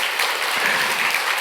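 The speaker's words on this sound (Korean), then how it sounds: "우리 수고한 선생님들에게 우리 한번 위로와 경애의 박수 한번 드리겠습니다" Church congregation applauding the teachers after a summer Bible school, a short, full burst of steady clapping at close range with no talk over it.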